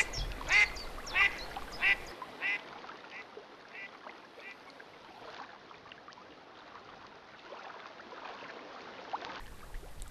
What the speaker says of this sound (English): They are used by different duck species, like the scops and the mallards.